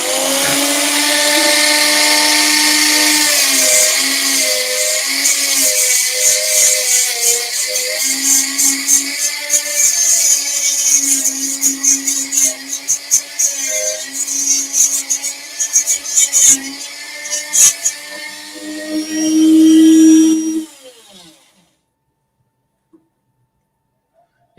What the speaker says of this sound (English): Now I've got to sand that out